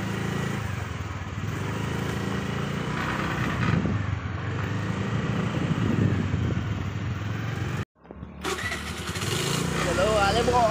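A motorcycle engine starts and runs steadily at the outset of a bike ride, a broad continuous rumble with a brief cut near the end, while people talk loudly over it throughout.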